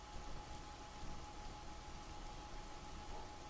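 Steady rain in the video game 7 Days to Die, an even broadband hiss of falling drops that holds at a constant, moderate level throughout with no other sounds over it.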